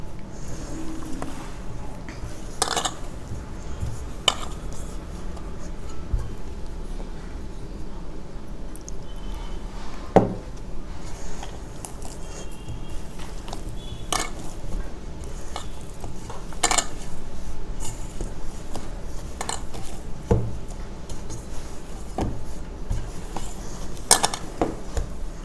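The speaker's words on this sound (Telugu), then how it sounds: "పిండి బాగా సాఫ్ట్గా వచ్చేలాగా కలపాలి గట్టిగా" Jowar flour dough being mixed and kneaded by hand, soft squishing and pressing with intermittent sharp knocks and clinks against a vessel, close and fairly quiet, with no talking.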